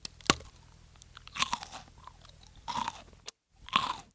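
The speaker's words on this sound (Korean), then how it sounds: "이게 막 아삭아삭하게 지금 씹히는 거 보니까" Close-up crunching of a crisp Pepero chocolate stick being bitten and chewed in several loud bursts separated by quieter pauses, with no talking.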